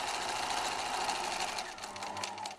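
A domestic sewing machine runs steadily while zigzag stitching along fabric edges, a continuous close whirring hum that tapers off at the very end.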